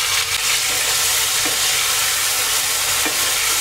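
Green chilies and chopped tomatoes frying in a pan, with a steady loud sizzle and a couple of soft stirring scrapes, no talking, for a vrat-style potato dish without garlic or onion.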